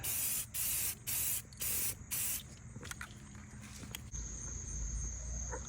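Spray paint goes onto a factory wheel rim in gloss black, with five short, loud hissing bursts in a regular rhythm followed by quieter ambient outdoor noise and a faint high tone.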